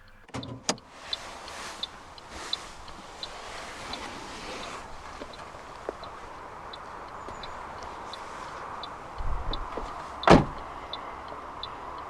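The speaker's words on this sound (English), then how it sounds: "roll down the driver's side window" Driver's side power window of a 2015 Toyota Yaris 1.5 VVT-i Hybrid Icon rolling down, a steady faint motor whir lasting several seconds close by, ending with a brief louder thump near the end, no talk.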